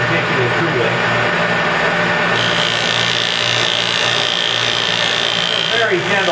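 A 60 mm Schleiffix sander attachment with 60 grit abrasive runs at about 3,500 RPM on a Felder Profil 45 Format4 shaper, giving a steady, loud, continuous whirring and rubbing drone with a shift in tone partway through and no talk.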